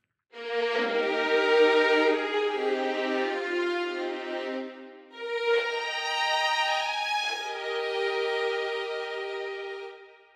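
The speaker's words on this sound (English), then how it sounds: "So what you heard was a starting note in unison, that's 16 players, followed by chords." A Concert Strings 3 string section of 16 players sustains a single unison note, then shifts into divisi chords split across the section. The bowed tones are rich and full, with a brief dip around the midpoint as the chords change, and no talking.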